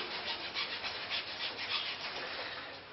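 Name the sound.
hacksaw blade cutting eucalyptus tree wood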